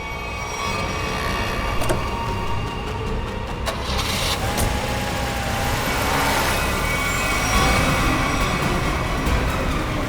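Car engine turning over and running as the vehicle is pulled out, a continuous low rumble with a few sharp clicks and knocks, steady and fairly close with no voices over it.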